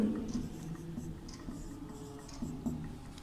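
A pen or pencil scratches out a written answer in soft, steady close strokes with small taps, faint and without talking.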